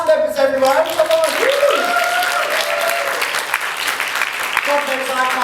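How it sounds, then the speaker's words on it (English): Applause and cheering rise from the audience for the cast at a student cabaret show. A voice sings or talks over the clapping at the start and end, with the crowd noise filling the middle. "let's get a big round of applause for my talented cast members, everyone"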